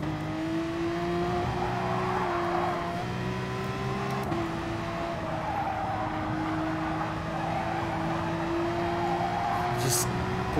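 A race car in Gran Turismo Sport drives hard under braking, engine note dropping and rising with downshifts and steady tire noise throughout, close and continuous, with someone talking over it.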